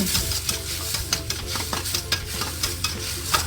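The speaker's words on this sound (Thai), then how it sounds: "ปรุงรสด้วยซีอิ๊วขาว 1 ช้อนโต๊ะ น้ำตาลทราย 1 ช้อนโต๊ะ ซอสหอยนางรม 1 ช้อนโต๊ะ ผัดคลุกเคล้าให้เข้ากัน" Shrimp stir-fried in a wok with soy sauce, sugar and oyster sauce: steady sizzling under brisk, repeated scraping and stirring strokes, close and fairly loud, with no talking.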